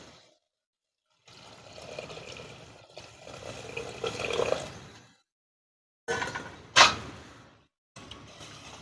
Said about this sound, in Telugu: చింతపండు షార్ అయితే పోస్తాను లోపల